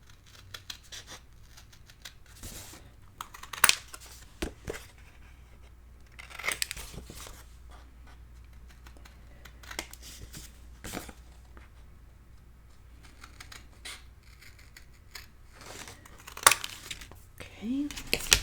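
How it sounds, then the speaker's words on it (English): Scissors trim the corners of paper for a Stamperia Winter Tales mini album: quiet, scattered snips with soft paper rustles and a few sharper clicks, close by in a calm room. "I'm going to trim off my corners"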